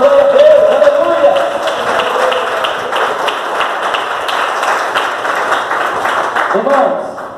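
A church congregation clapping together for Jesus during a Portuguese-language worship service, a steady wash of many hands in a room, with voices speaking over it.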